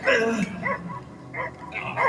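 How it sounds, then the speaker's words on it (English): Dog barking in the Marvel's Guardians of the Galaxy video game, a series of four or five sharp yips and barks in irregular rhythm, close and fairly loud against quiet game ambience. "I hear him barking"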